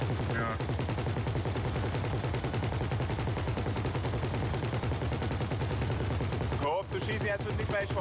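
Rapid sustained gunfire fills a GTA Online shootout on PC, dense automatic bursts running continuously with a brief break near the end, with a voice faintly underneath.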